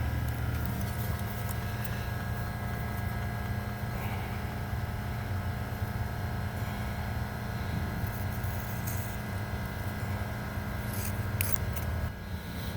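Zamboni 546 squeegee material is cut steadily with a tool, a continuous rough rasping and shearing that runs up close for several seconds over a low droning background.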